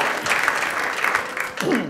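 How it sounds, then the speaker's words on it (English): A room claps for a panel at a community transitions symposium, a short, fairly loud burst of crowd applause with a voice briefly rising over it near the end. "let's give them an extra round of applause for this one"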